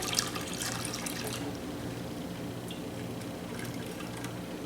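Steady trickling and splashing as yeast water is poured gently into blueberry mead must, a continuous soft watery wash with faint drips, no talking.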